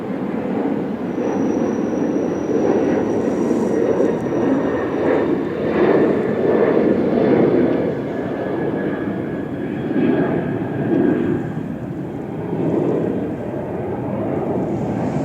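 A steady, low engine drone from a small plane fills the whole stretch outdoors, rising and falling gently as it passes overhead. A faint high whine runs beneath it.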